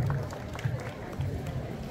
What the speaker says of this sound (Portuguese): uma salva de palmas Ouro Branco